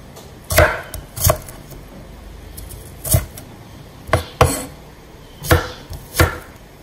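A knife chops large onions on a board in about eight crisp, separate strikes that come at an uneven pace, some in quick pairs, with quiet gaps between them.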